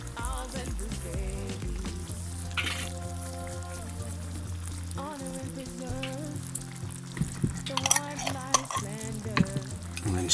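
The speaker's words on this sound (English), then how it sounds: "we're just going to let this simmer for about 10 or 15 minutes until the potato starts to soften up and the tomato cooks out nicely" Mince and tomato sauce with coriander, potato and a little brown sugar bubbles and sizzles gently in a pan, a steady low simmer with small pops and under a sustained background hum.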